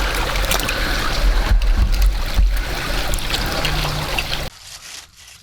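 Water trickles and splashes around leaking waders as someone wades in a creek, a close, busy burble with sloshing bumps that drops abruptly to a quieter, sparser trickle near the end.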